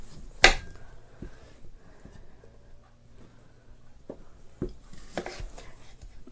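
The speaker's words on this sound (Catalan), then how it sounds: "aquest moment de tallar les verdures així petites" A knife taps on a cutting board in sparse, uneven chops, cutting vegetables into small pieces, a few crisp strikes spaced apart against a quiet kitchen background.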